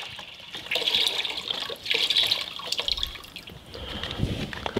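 Chicken stock poured into a pot of beans and water in a home kitchen, a steady liquid splash and gurgle with a brief dip midway, close and moderately loud with no talking.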